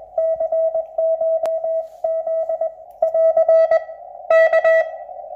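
A strength 9 radio signal on an amplifier with AGC released, a steady tone keyed on and off in bursts, loud and overloading with harmonics spreading upward, alone without talk.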